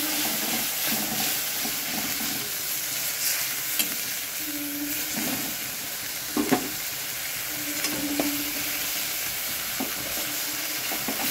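Onion, ginger and garlic paste fries in hot oil with a constant close sizzle and hiss, broken by occasional scraping stirs and brief clicks of a spoon on the pan, with no voices.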